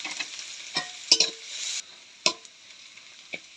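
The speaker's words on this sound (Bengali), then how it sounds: "পেঁয়াজগুলো একটু ভাজা ভাজা করে নিছি" Chopped onions and green chillies frying in oil over cumin, cinnamon and bay leaf for egg bhuna, heard as a soft sizzle broken by a few sharp scraping stirs, close and fairly quiet, with no talking.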